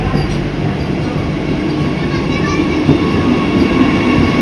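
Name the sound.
Vande Bharat train at Thiruvananthapuram Central station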